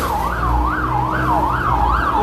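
A fire truck's siren wails loudly and close, rising and falling in a steady, even cycle, on its way to a house fire near a market in Svay Rieng town.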